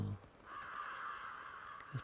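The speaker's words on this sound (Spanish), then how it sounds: "Los pájaros hacen saber que estamos aquí." Crows cawing in the video game The Last of Us Part 2, harsh calls standing out clearly against a quiet ambient background, the last one short and sharp near the end.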